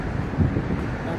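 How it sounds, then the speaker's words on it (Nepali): Strong wind buffets the microphone on the seafront at the Corniche, a steady low rumbling roar lasting throughout with a brief gust swelling midway, no clear talk over it. "पुरै हावा सरर चलिरहेछ"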